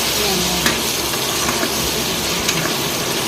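Steady sizzling and crackling of a tempered rotla, a millet flatbread, frying in a hot pan, with a few faint clinks of stirring; continuous and close.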